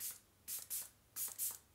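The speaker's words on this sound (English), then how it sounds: "I'm going to go with the Dalba First Serum Spray." Dalba First Serum finishing spray misted onto a face in several short, soft hissing bursts, each a brief airy spritz with quiet pauses between, close and gentle, with no talking.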